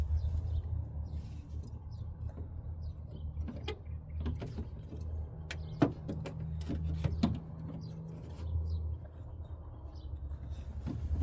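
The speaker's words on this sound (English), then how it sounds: "Now it's got to run a couple screws in." Screws being run in during a car speaker swap on an older Ford, a steady low mechanical drone with sharp intermittent clicks and creaks from the driver and fastening, close and moderately quiet, no talking.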